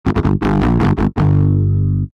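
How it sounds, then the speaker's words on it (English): Heavy distorted electric guitar chugs, a few quick palm-muted hits followed by sustained crunchy chords, loud and gritty with no voices. "to get some really great kind of dirty metal guitars."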